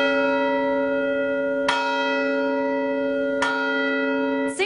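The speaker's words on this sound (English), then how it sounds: "Bells are a very pure sound, and for centuries they've symbolized heaven." A cathedral church bell rings with sustained, shimmering overtones, struck again about every two seconds, each new strike adding a bright attack over the lingering hum.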